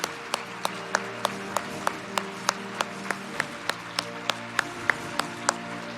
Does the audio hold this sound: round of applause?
yes